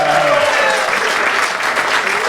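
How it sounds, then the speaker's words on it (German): At a Basel carnival Schnitzelbängg show, an indoor audience claps in dense, loud, steady applause from start to end, with a brief voice at the very start. "Gebt doch mal einen Applaus!"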